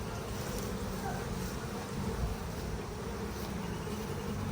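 Honey bees buzz steadily around an open hive during frame management, a dense, continuous insect drone close to the microphone with no talking.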